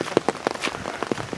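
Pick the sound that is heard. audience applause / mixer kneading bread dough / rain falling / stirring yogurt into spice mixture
rain falling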